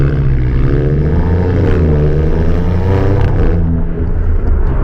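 2022 Alfa Romeo Stelvio Quadrifoglio SUV, a loud close engine and exhaust drone holding a steady pitch with a slight rise and fall, continuous throughout.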